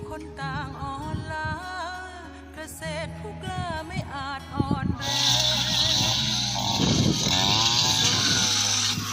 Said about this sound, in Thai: งานตัดหญ้าก็ยังอยู่อีกเยอะนะครับ ทั้งสวน